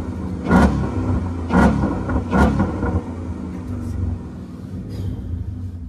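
Ford Mustang GT V8 with a light body kit revving toward the redline, three sharp deep blips at regular intervals over a rumbling idle, loud and close, then settling into a lower steady burble.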